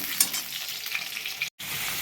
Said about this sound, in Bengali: আলুটা ভালো করে ভেজে নিই